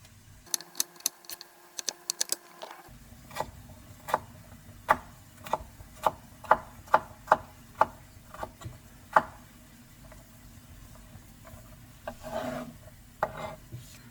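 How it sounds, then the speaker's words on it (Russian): A knife chops carrot into small cubes on a board, a run of sharp, evenly spaced taps in a quiet kitchen, with a few scraping rubs between strokes. "морковку мы нарежем так же, как мы нарезали лук. Мелким кубиком"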